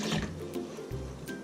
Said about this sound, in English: Just going to be adding 1 1/4 cup of drinking water.